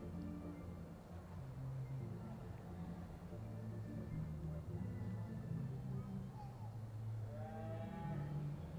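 Beef cattle at a livestock show in Freedom Hall moo repeatedly, with low, drawn-out calls overlapping from several animals over a constant murmur of the surrounding hall.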